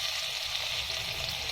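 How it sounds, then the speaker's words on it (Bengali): Chopped garlic hitting hot oil in a wok, giving a brief, dense, continuous sizzle close by. "কড়াইতে তেল দিয়ে দিয়েছি, তেলটা গরম হয়ে গিয়েছে। এখন দিয়ে দিব রসুন কুচি"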